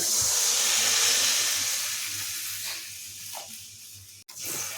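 Water is poured into a hot pan of frying spice paste for a fig and chana dal curry, and a loud steamy hiss bursts out and slowly dies down, ending in a sharp click.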